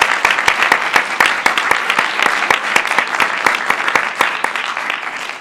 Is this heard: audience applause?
yes